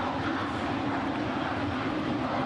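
An airplane roars overhead at a baseball stadium during a Phillies at Mets game, a loud, steady broadband engine rumble that fills the whole stretch without letting up.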